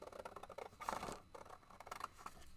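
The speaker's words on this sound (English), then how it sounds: "So now I'm just going to go up from there and pretend to know how to cut a straight line." Scissors cutting paper by hand to shape a Halloween bat, a quiet close series of irregular snips and crisp slicing strokes.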